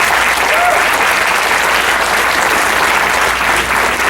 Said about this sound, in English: We're all standing and give them a nice round of applause, please.